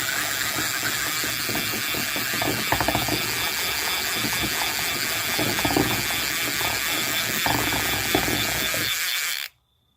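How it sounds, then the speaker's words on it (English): A 1953 Pflueger Skilkast fishing reel being reeled in gives a steady, close run of rapid mechanical ratcheting clicks that stops abruptly near the end. "flip that switch back up and start reeling in"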